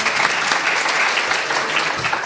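Audience applause fills a question-and-answer session, a dense, steady wash of many hands clapping at once that holds at an even level for about two seconds.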